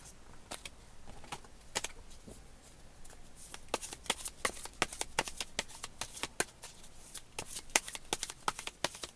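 Tarot cards being shuffled in a run of crisp, rapid riffles and snaps, close and fairly quiet, with the clicks bunching into denser bursts partway through.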